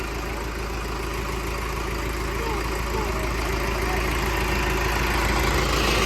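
A tractor engine idles in a steady, loud, low mechanical drone with an even rhythm that carries throughout without a break.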